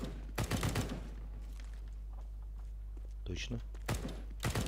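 Rapid bursts of gunfire from a weapon in the video game CS:GO crackle briefly at the start and end, heard under a steady low background hum while someone speaks Russian.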